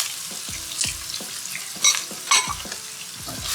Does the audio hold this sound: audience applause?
no